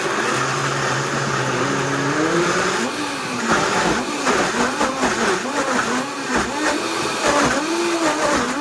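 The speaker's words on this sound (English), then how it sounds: "add a little water to assist the blender" A blender grinds tough root with a little water, its motor whining and labouring with fluctuating pitch as the load shifts, loud and continuous with no talk.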